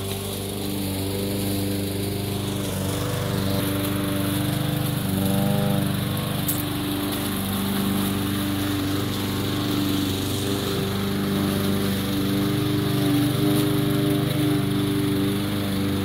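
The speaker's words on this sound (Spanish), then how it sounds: "Ahí anda cortando con todo la grama." A lawn mower cutting grass, a loud, steady engine drone held close for the whole stretch, with slight shifts in pitch as it works and no talking.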